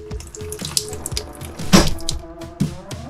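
A newly fitted residential kitchen faucet in an RV runs water into the sink, a close, steady splashing stream with a few sharper drips and surges.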